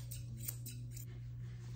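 Grooming scissors snip a Bichon puppy's hair in a series of quick, quiet, close metallic cuts over a steady low hum.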